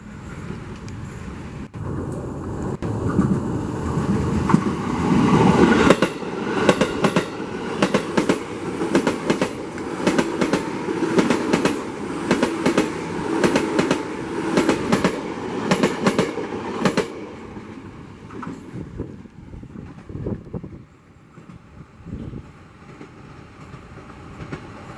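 A KRL commuter train in the Marchen new livery rolls past close by at a level crossing in Kulon, its loud rumble and rhythmic wheel clatter filling most of the stretch before fading away.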